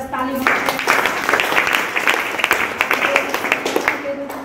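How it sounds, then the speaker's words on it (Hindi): Audience applause at a DXN business gathering in India, a sustained wash of clapping from a seated crowd with a voice speaking over it at the start, the claps thinning toward the end. "तो देखिए गुरु जी के लिए जबरदस्त ताली"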